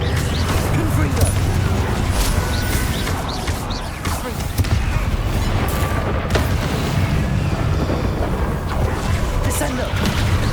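Confringo blasting spell explosion in the video game Hogwarts Legacy, dense rumbling booms and crackling blasts in a loud, continuous combat mix, with voices heard in the din.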